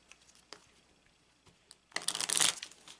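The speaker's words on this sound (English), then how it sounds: "And then I go back to shuffling the deck as a whole." A Petit Etteilla tarot deck is shuffled: a few faint taps and flicks, then a loud, dense burst of riffling cards in the final second, close up and with no talking.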